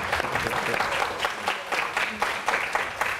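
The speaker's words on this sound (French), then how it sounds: "On applaudit Siko Sax" An audience at a live entertainment show applauds a saxophonist's entrance with steady, dense clapping, continuous and fairly close, with scattered cheers mixed in.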